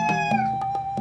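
A cat meows repeatedly inside a bodega, four or five short, close calls in quick succession over a steady electrical whine and faint shop background.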